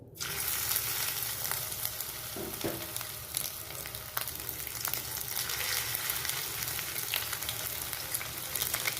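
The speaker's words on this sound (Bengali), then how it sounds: "এখানে ফ্রাই প্যানে সাদা তেল দিয়েছি, সাদা তেলটা গরম হয়ে গেছে। তো এখানে আমি ভাজার জন্য ছেড়ে দিচ্ছি ছোট ছোট করে" Small fish chops sizzle steadily in hot white oil in a frying pan, a dense, even crackle with occasional pops and stirring clinks, close and continuous without speech.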